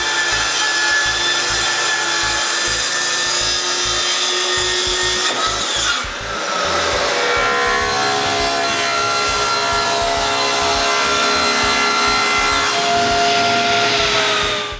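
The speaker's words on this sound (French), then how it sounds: "Ensuite, on peut couper les 2 autres dessus." A power saw cutting two more plywood tops for a miter saw cabinet, a loud, sustained grinding whine that dips briefly midway and then carries on steadily through a long cut.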